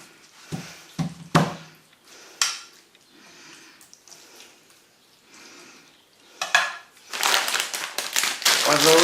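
Beefy bean hotpot being stirred in a pan, with a few clinks of a spoon against the pan early on, then louder scraping and sizzling toward the end, alone without talk.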